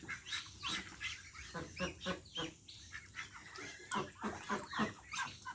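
Chinese ducks (Muscovy) on a farm give repeated hoarse, honking calls in quick uneven bursts, several birds overlapping at moderate distance with brief pauses between calls.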